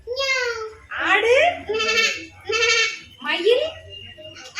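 A young child imitates a goat, giving about four wavering, bleat-like calls in quick succession. The voice is close and clear, with brief pauses between calls.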